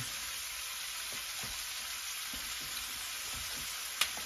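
Chopped onions frying in butter and olive oil in a pan, a steady close hiss and sizzle with soft crackles throughout and one sharp pop near the end.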